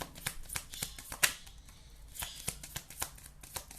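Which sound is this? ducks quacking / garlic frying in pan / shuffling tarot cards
shuffling tarot cards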